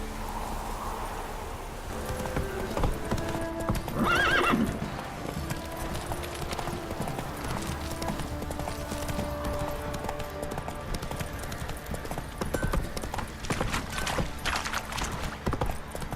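Roach the horse in The Witcher 3 trotting with a steady clip-clop of hooves on the ground, joined by a brief neigh early on, against an outdoor ambience with faint rustling.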